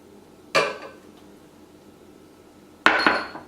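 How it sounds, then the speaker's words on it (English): A metal utensil clanks twice against a pan while Italian herbs, black pepper, chili flakes and tomatoes are stirred in, two sharp knocks about two seconds apart over a quiet kitchen background. "Just stir and add the tomatoes."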